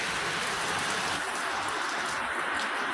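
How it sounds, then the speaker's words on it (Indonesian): Heavy rain pours down steadily outdoors at night, a dense unbroken hiss of drops striking surfaces close by, with no talk. "Hujan lebat."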